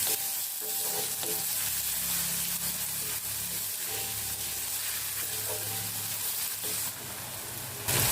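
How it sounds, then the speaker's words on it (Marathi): Onion stirred and fried with ginger-garlic paste for an egg keema masala gives a dense, continuous sizzle, close and loud, with faint stirring strokes underneath and a brief swell of hiss toward the end. "कांदा आता सोनेरी कलरचा होईस्तोवर आपल्याला परतवून घ्यायचा आहे"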